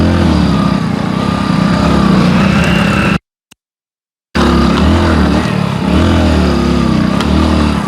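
A small motorcycle engine labours along a rough forest track in the Abujhmarh jungle, a loud, close, uneven drone that cuts out completely for about a second before roaring back, with no talk.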